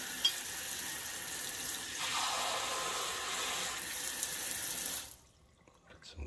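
Water runs from a kitchen tap into a sink while crepe batter is being made, a steady splashing rush that stops abruptly after about five seconds, followed by faint clatter.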